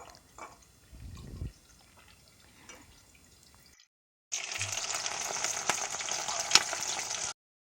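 Chilli chicken pakoras fry in hot oil, heard as a steady, fairly loud sizzling hiss for about three seconds after a quiet stretch with faint kitchen clatter.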